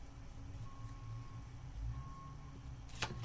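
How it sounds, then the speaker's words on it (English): Faint electronic beeps sound twice, each a thin sustained tone, over a low background hum, followed by a brief sharp noise. "Y'all hear the beeping?"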